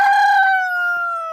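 A village rooster crows one long, loud, close call that holds steady and slowly trails off, with no talk over it.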